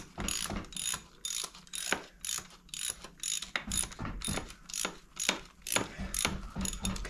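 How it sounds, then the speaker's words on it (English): A ratchet clicks in quick, repeated bursts as a wheel bearing bolt is tightened on a 2009 Chevrolet Impala, close and fairly quiet, with no voices. "I'm just putting the one bolt in for now."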